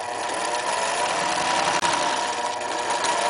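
Fast, continuous whirring stitch rhythm of a sewing machine running a second locking seam with English embroidery trim on a rag doll's small skirt, steady and close with no talking.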